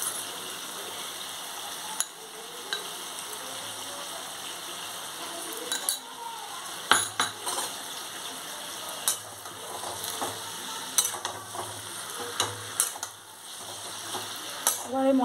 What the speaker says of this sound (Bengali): এবার এই মশলাটা দিয়ে ভালো করে সবজিগুলো নাড়তে হবে।